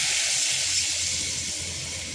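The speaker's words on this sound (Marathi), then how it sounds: "तर आता लगेचच आपण ह्याच्यात पाणी टाकूया." Water poured into a Koli-style curry in a pan, a steady bright hissing gush with a low rumble beneath, lasting the whole short moment.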